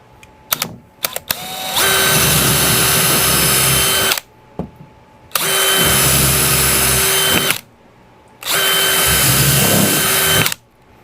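A power drill bores a stud hole while a TV wall mount is installed, running in three long, loud bursts separated by short pauses, with a few brief clicks before the first run.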